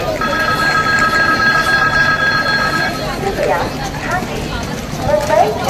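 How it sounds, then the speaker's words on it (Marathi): Passenger train on the Konkan railway rolling steadily, a continuous close rumble with rhythmic clatter, a sustained tonal ring in the first half, and voices talking over it. "आमची ट्रेन आता उक्षी रेल्वे स्टेशनला पोहोचलेली आहे"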